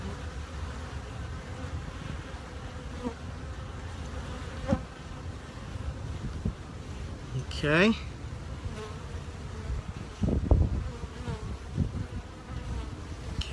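Honeybees buzzing around an open hive during a queen release from a push-in cage, a steady close hum with individual bees zipping past, and a brief spoken word.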